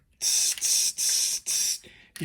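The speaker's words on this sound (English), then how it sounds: "you're going to take your spray adhesive then" Spray adhesive hisses from an aerosol can onto model tree foliage clusters in four loud, close bursts of nearly even length, followed by a short, weaker fifth spray.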